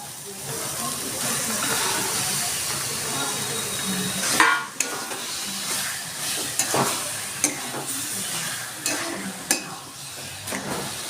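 Kohlrabi pieces hiss and sizzle in a frying pan for a rohu fish curry, a steady steamy crackle broken by several sharp scrapes and knocks as the pieces are stirred, close and without talk.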